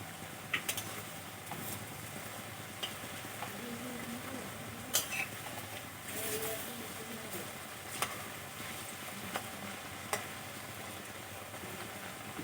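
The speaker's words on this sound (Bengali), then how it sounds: "এক সাইডটা ভাজা হয়ে গেছে, উল্টিয়ে দেব।" Vegetarian mock fish frying in a pan, a steady low sizzle with occasional sharp clicks of a spatula or utensil against the pan as the pieces are turned, fairly quiet and continuous throughout.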